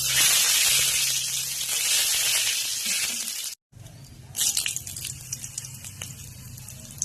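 Loud, steady hiss and crackle of cumin seeds, bay leaves and a dried red chilli frying in hot oil, briefly cutting out, then returning with sharper spits and pops.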